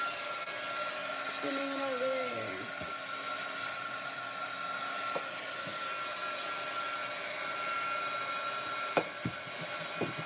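A hair dryer blows with a steady, loud whooshing drone through the whole stretch, while a person speaks briefly over it near the start.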